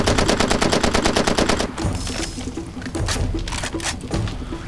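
Rapid automatic gunfire from the video game Far Cry 2 rattles out in a tight burst, followed by scattered louder shots and impacts, close and loud with no speech.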